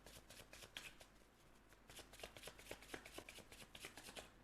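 Tarot cards shuffled by hand, a quick run of crisp riffling snaps and flutters repeating in bursts, close and quiet with no talk.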